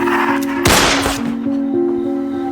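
A man fires a handgun in a film scene, a sharp loud burst with a ringing tail over a steady background score.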